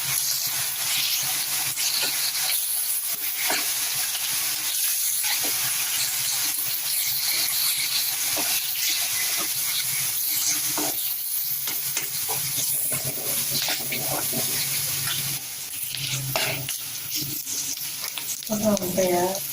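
Eggs and onions sizzle and fry in a pan during a home cook of egg varuval, with steady close hissing and occasional stirring scrapes throughout; no one speaks.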